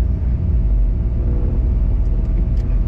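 A 1994 Chevy Camaro Z28 exhaust gives a loud, deep, steady low rumble close by, sustained the whole time with faint higher ticks near the end and no talking.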